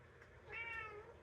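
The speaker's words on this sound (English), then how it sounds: "My cat is being very talkative right now." A talkative house cat lets out one short, faint meow at a distance over a low room hum.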